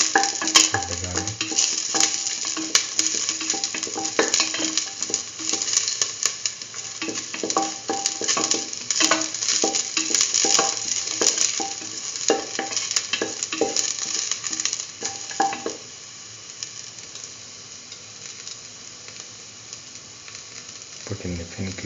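Garlic and salt frying in a pan for a mustard lentil stew, a continuous crackling sizzle with busy stirring scrapes and clicks, easing to a quieter simmer near the end.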